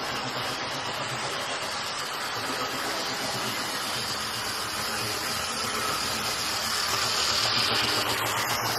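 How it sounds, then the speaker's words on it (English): A model diesel locomotive, a Mainline and Lima Warship, runs into the station with a steady, buzzing motor hum and a broad hiss that holds level and swells slightly near the end, with no talk. "we're going to bring this locomotive into the station in just a moment"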